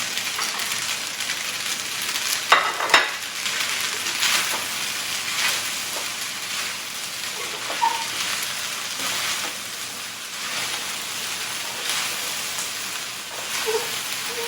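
Udon noodles with bean sprouts and chives stir-fry in a pan, a steady loud sizzle with occasional clanks and scrapes of tongs as the food is turned.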